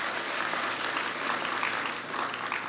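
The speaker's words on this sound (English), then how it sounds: "Everybody claps, claps." A church congregation clapping together at a town hall worship service, a steady, continuous patter of many hands sustained from start to finish.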